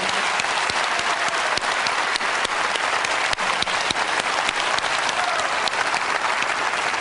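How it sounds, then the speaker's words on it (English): Loud, sustained applause from an audience, dense steady clapping with no pauses. "let's just give him another round of applause"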